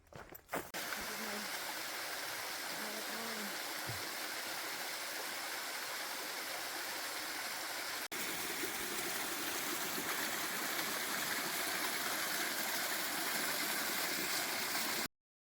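A creek along the Pacific Crest Trail near Cascade Locks rushes steadily in a broad, continuous wash of flowing water, close and full, with faint brief sounds at the start.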